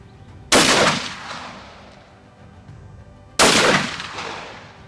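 Two loud, sharp rifle shots during a buffalo hunt, about three seconds apart, each with a sudden crack followed by a decaying outdoor echo.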